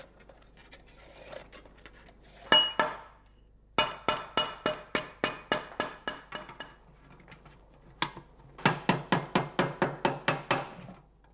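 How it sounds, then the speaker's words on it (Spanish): A mallet strikes tinplate in rapid rhythmic runs of bright metallic clanks, loud and close in a craftsman's workshop, with short pauses between the bursts and no speech. "El mazo siempre iguala un poco más que los martillazos pequeños"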